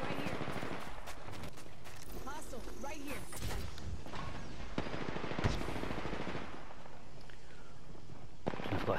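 Pistol gunshots in the video game Apex Legends: a few sharp, loud cracks stand out amid busy, constant game noise, with other firing clattering in between.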